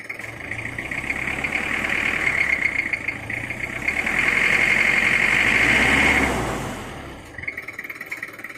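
A motorcycle engine idles after exhaust tuning, running steadily with a buzzy, slightly rattling tone that swells louder in the middle and settles back toward the end, with no talk.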